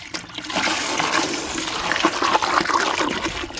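Water from a garden hose rinses debris out of a garden fountain basin, a steady close rushing and splashing that runs continuously throughout.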